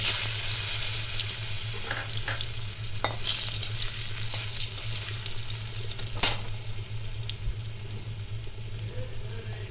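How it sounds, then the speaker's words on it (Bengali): Boiled mango is stirred into a mustard-seed and five-spice tempering. The close, busy sizzle carries spatula scrapes and a sharp clink partway through, with no talk. "এবার সেদ্ধ করে রাখা আমটা আমি একটু নাড়াচাড়া করে দেবো"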